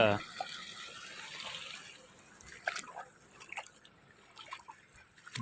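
Jivamrut, an organic farm liquid fertilizer, streams into irrigation water at a water tank, a soft continuous trickle with scattered drips, while someone talks over it.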